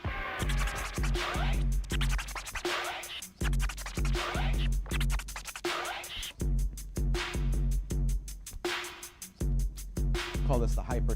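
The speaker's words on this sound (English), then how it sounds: "now let's apply that 16th note rhythm to the chirp scratch" A DJ repeats chirp scratches on a turntable over a steady looping beat, cutting the record into quick 16th-note bursts of short squeaky swipes, cycling in tight, even rhythmic phrases.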